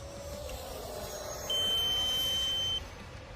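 A steady, loud electronic beep from an RC flight timer sounds for about a second and a half over faint background hum, flying an FMS 64mm Rafale jet with ordnance fitted, then stops abruptly.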